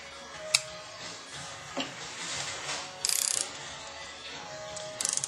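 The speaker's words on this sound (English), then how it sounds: "And now, go to the recommended torque." A torque wrench ratchets while tightening an engine connecting rod bolt to spec. Two quick bursts of crisp, close clicking stand out, with a few softer metallic knocks and handling noises between them.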